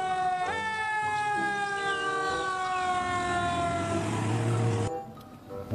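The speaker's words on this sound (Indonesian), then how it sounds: "Wow, lihat teman-teman, ada fire truck." Fire truck siren wailing loud and steady with a rising and falling tone on a street, passing close over low traffic rumble, then cutting off abruptly near the end.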